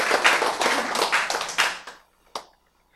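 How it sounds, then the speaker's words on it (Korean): An audience in a Korean church lecture claps together for about two seconds in a dense burst of hand claps, then it fades, with one last lone clap after a short pause. "박수 제일 먼저 쳤죠?"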